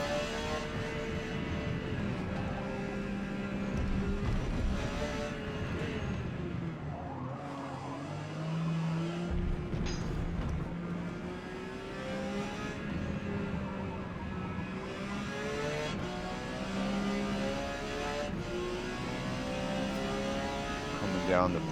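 A Porsche 956 race car in Forza Motorsport at the Hakone Grand Prix Circuit, engine droning steadily at high speed with shifting pitch through gear changes and corners, under continuous commentary by a man.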